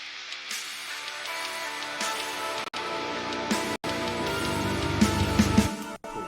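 A music mix gradually loses its low end as a low-cut filter is swept upward by hand, thinning the sound, with a few brief dropouts along the way.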